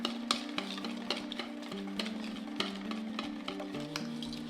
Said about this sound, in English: If not, then we're just gonna whisk it up real good.